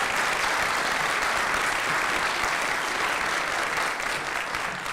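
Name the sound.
applause for the longest-tenured judge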